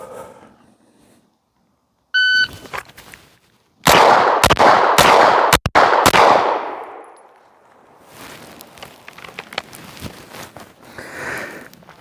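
Pistol shots from a Walther PDP fitted with a Dynamic Performance trigger at a range. A shot-timer beep is followed by a rapid string of about five sharp, loud reports with ringing echoes, then quieter handling noise.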